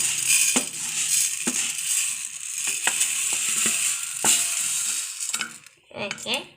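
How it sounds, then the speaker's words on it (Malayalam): Raw rice roasting dry in a hot pan for dosa podi, with close scraping and rattling stir strokes and sharp clicks of grains over a steady hiss. "ഇതിലേക്ക് നമുക്ക് ആദ്യം അരി ഇട്ട് കൊടുത്ത് വറുത്തെടുക്കാം."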